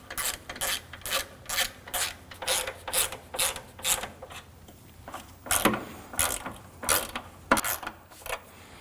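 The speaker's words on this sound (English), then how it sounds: "Hold the bracket up while you tighten down the nuts." A hand ratchet clicks in rapid bursts while tightening bracket nuts on a 2013-2015 Subaru XV Crosstrek 2.0L H4, with repeated short runs of ratcheting separated by brief pauses, close up.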